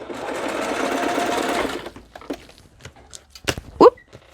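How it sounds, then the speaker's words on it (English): A sewing machine runs in a steady, loud mechanical whir for about a second and a half, then stops, followed by scattered clicks and small handling knocks. "Go Go Gadget sewing machine."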